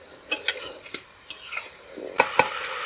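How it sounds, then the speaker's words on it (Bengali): A spoon clinks and scrapes inside a pot while khichuri with rice, lentils, ginger, turmeric and cabbage is stirred, giving irregular close metallic taps and soft scraping. "দিদি একটু নেড়ে দাও।"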